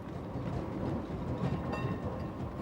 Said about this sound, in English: I always take this tram.